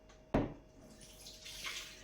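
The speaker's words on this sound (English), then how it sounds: "Pour the water out." A sudden splash as soaking water is dumped out of sprouting buckwheat, followed by a soft trickling and light sloshing, close by.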